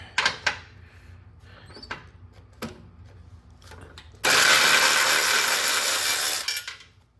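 A cordless ratchet with a deep socket spins off a 9/16 nut from a lawn mower, a steady loud whirring burst lasting about two seconds after a few faint clicks and taps of fitting the socket.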